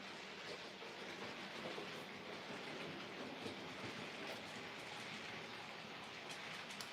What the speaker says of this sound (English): So I thought I would put some trains on.